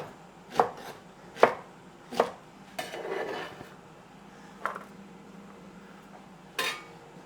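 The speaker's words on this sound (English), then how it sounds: "I'm just taking the ends off, give them a little chop." Broad beans being chopped with a knife on a board, about six crisp separate thuds at uneven intervals, close and clear, with a light rustle of handling between cuts and no talking.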